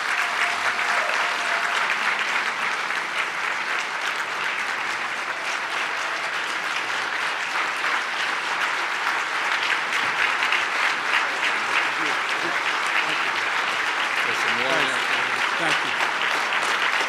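Sustained audience applause greets Governor Andrew Cuomo at an ABNY event, a dense, even wash of clapping from a large crowd that carries on unbroken and stays loud throughout.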